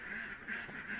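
Quacking from a duck, a few repeated calls over a steady, fairly loud background hum, without talk.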